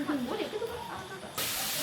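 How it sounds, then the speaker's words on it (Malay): An omelette fries in a pan at an outdoor rainforest campsite, a sharp sizzling hiss that jumps louder near the end, with voices talking over the first part. "Chef Putri Saidatul Farhana menggoreng telur dadar."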